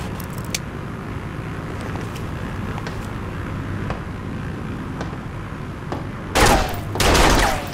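Gunfire in a Serious Sam 4 cutscene: a dull rumbling background carries scattered faint cracks, then a loud, dense burst of rapid shots near the end.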